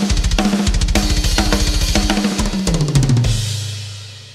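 A programmed drum pattern from the GGD Invasion library plays fast, tight repeated kick and snare hits with cymbals, loud and driving, ending on a ringing crash with a sustained low tone, no voices.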